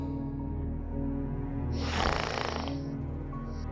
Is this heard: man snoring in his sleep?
yes